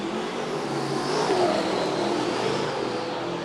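A modified production race car, newly bought by Gary Pagel, roars around Gympie Speedway during a Queensland Modified Production title night, its engine note a dense, sustained mid-distance howl that swells slightly mid-lap.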